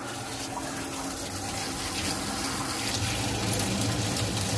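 A dog bath sprayer delivers water and shampoo together onto a double-coated Alaskan Malamute, a steady, close hissing gush of spray that builds slightly, with a low pump hum underneath.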